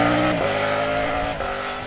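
A Triumph Tiger 900 Rally Pro motorcycle engine hums steadily and loudly up close, its tone shifting slightly in pitch partway through as the bike rides on, with no voices.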